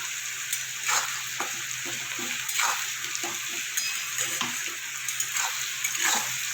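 A pan frying for a Bengali egg curry with salt just added, a constant sizzle broken by repeated soft scrapes and taps of a spoon stirring, close by and with no talking.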